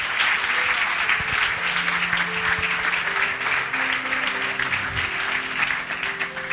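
A church congregation applauds to acclaim the Lord, sustained dense clapping holding steady and loud throughout, with low sung or held tones underneath.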